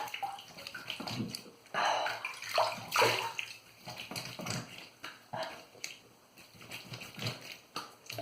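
A Whipped Dog 30mm boar shaving brush is rinsed under water, producing close, irregular bursts of splashing and running water with brief quieter gaps.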